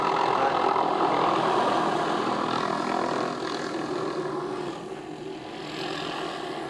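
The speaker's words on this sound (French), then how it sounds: "c'est pas normal, au-dessus d'une route, d'avoir un hélicoptère" A helicopter hovers above a road, its engine and rotors producing a steady loud drone that eases slightly in level toward the end, with no clear talking over it.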